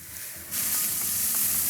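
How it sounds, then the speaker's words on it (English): Malted grain is poured into heated brewing water in a homebrew all-grain setup, a sudden loud hissing rush of pouring grain that starts abruptly and continues steadily, close up with no talking. "Let's add the grain."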